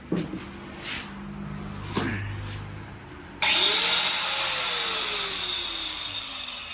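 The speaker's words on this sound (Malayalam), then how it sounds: "അങ്ങനെ ചെരുപ്പ് കട്ട് ചെയ്യാനുള്ള തയ്യാറെടുപ്പിലാണ്." A sandal's heel is cut down with a cutting tool: a couple of soft knocks and handling sounds, then a loud, steady, close-up rasping whine starts abruptly and continues to the end.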